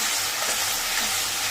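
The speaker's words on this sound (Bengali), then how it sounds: "মা এই পেঁয়াজটা একটুখানি নেড়ে নিই" Onions frying in a pan for a fish-head muri ghonto are stirred, producing a loud, dense, continuous sizzle up close with faint scraping underneath.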